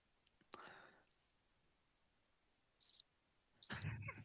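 Brief cricket chirps, apparently a played sound effect, sound in two short pulsed bursts amid near-silence during a pool match broadcast, with a faint whisper-like sound nearby.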